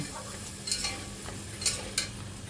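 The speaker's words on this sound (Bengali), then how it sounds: "আরও একবার ভালো করে মশলাগুলোকে নেড়ে চেড়ে নিয়ে" Spices stirred and fried in a pan for a vegetarian taro curry, a low continuous sizzle broken by three or four short scraping strokes of the spoon, close and moderately loud, with no voices.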